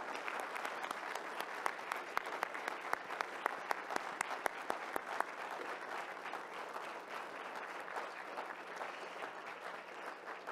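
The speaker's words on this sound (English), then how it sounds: "I wonder if we can just have a huge round of applause for all of our inspirational speakers" An audience at a lightning-talk session of young scientists claps for the speakers, a steady wash of applause with distinct sharp individual claps, fairly faint and heard from a distance.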